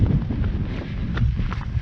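Steady low rumbling north wind buffeting the microphone on open grass downs, continuous throughout with faint scattered knocks and no talking.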